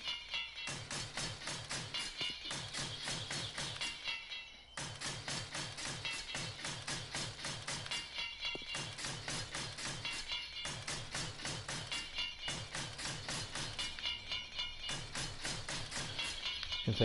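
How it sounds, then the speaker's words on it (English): Rapid bursts of a nail gun fire in quick, even volleys, pausing briefly between runs, as castle walls are built in a video game. "I'm so glad I found this nail gun in the working stiffs tool place"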